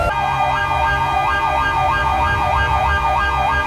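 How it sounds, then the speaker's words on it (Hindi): An emergency siren wails loudly and steadily throughout, its rising and falling tone repeating alone with no talk over it. "Siren on."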